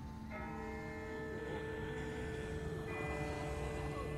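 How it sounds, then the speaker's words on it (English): A large bell tolls in The Walking Dead video game, ringing out with long sustained overtones that overlap and linger, fairly loud against a low background rumble, with no speech. "That's not the same bell as before."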